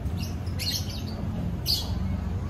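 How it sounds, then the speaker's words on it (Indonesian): Lovebirds at an outdoor garden restaurant give two short, bright chirping bursts over steady background murmur and ambient noise. "Dan suara kicauan-kicauan burung ternyata dari sini nih guys. Ini ternyata ada lovebird."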